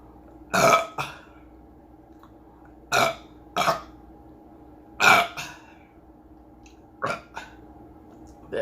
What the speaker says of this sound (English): It's just burps, and the burps are not really that good.